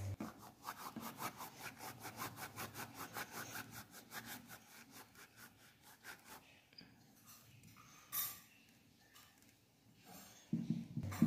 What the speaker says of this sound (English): Rub small amount of cumin seeds on palms.